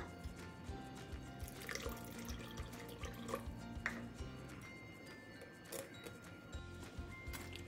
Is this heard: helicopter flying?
no